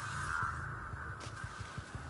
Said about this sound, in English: Crows. The crows knows.